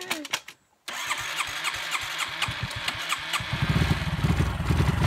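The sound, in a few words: motorcycle engine being started after stalling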